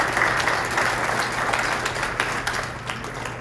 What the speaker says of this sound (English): how about a round of applause for your parents and those who have supported you all these years?